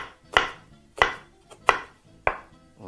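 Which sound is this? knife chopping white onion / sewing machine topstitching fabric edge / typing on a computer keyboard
knife chopping white onion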